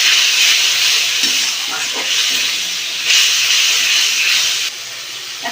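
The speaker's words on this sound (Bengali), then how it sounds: "টমেটো ধুয়ে একটু জল দেবো," Washed tomatoes and a splash of water frying in hot oil for egg curry give a loud, continuous sizzle and steam hiss with faint stirring knocks, surging again midway before dropping to a quieter fizz near the end.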